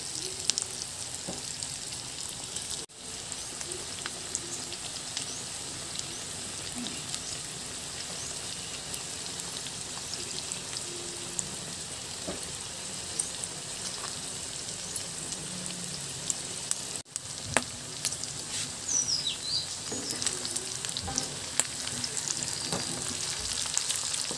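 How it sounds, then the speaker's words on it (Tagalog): Binagoongan simmers in a pan with a continuous close sizzle and fine bubbling crackle that holds evenly throughout, with no voices. "Simmer lang natin ng mga at least 1 minute"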